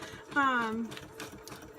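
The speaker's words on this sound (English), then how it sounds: "I just push the tissue paper in underneath the foot of the sewing machine as I'm going along to have it be a ruffle" A sewing machine runs in a short whirring burst while stitching a tissue paper ruffle into a notebook insert, a rising motor whine close by, with a voice talking throughout.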